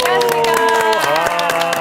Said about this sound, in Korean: 6분의 명의 큰 박수로 환영합니다.